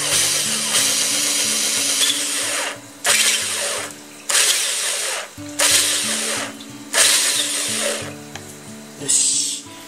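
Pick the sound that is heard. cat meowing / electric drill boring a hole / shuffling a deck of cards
electric drill boring a hole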